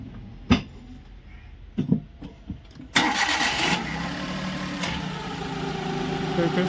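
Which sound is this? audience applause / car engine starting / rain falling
car engine starting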